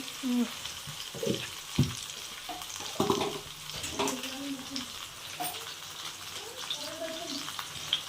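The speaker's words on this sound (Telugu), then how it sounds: "ఇప్పుడు మనం బాగా కలిపేసుకోవాలి" Veg noodles being stirred with garam masala in a pan give off a steady sizzle and frying crackle, with intermittent scraping of the stirring utensil and occasional clinks close by.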